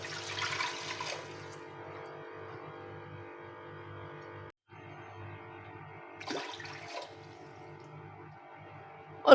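Water pours into a pressure cooker in two short bursts over a steady background hum, with a brief splash at the start and another later on.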